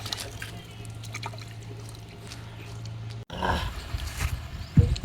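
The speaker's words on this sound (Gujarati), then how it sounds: "એ પાણી હાથ પગ ધોઈએ છે." Water splashing and trickling as someone washes their hands and feet, a continuous close pour that grows louder and more turbulent toward the end, with faint background noise.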